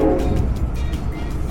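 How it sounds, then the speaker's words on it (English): A passenger train between Miami and Orlando, running at speeds up to about 130 miles per hour, produces a loud, steady rumble and rushing roar, heard briefly with no voices. "This train travels at a top speed of about 130 miles per hour."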